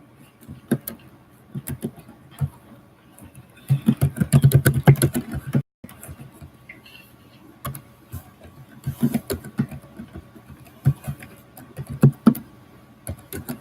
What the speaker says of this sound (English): Let me type in here.